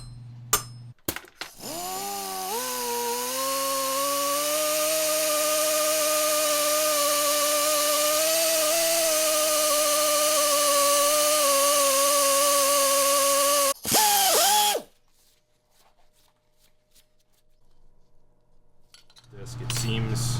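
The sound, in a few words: power drill drilling a hole in a casing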